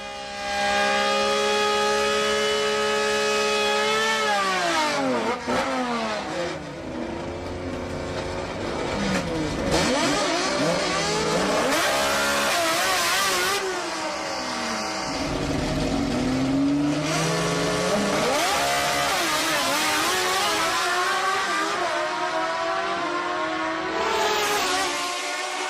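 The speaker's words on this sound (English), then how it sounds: "The best sounding cars are the old naturally aspirated entries." Old naturally aspirated drag cars at Sendai Highland scream through hard acceleration, loud and near, with repeated rising and falling engine notes as gears change and cars pass, one engine overlapping another.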